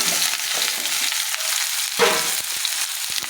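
Panch phoron, bay leaf and dried red chili crackle in hot oil, a steady close sizzle with a few stirring scrapes and clicks.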